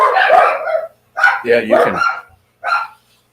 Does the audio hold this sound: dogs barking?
yes